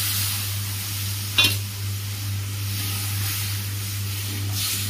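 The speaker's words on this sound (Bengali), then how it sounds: "এবার একটু জল দেবো, অল্প জল দেবো, বেশি দেবো না" Oil in a pan on a home stove sizzles and hisses continuously after a little water is poured in, with one sharp spitting burst early on and a steady low hum beneath.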